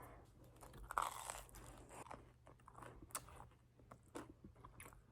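Biting into a warm homemade sourdough bagel spread with cream cheese gives a loud crisp crunch up close, followed by several seconds of quieter chewing and crackling crust.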